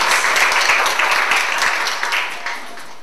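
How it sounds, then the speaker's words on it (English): Conference audience applauding after a speaker is introduced, a loud, dense wash of clapping that holds steady and then gradually thins and fades out. "Let's give him a round of applause."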